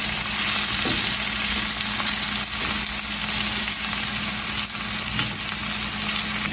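Mature spinach tossed and stirred into hot bacon fat, a constant loud sizzling hiss with a steady hum beneath and a few soft scraping stirs breaking through.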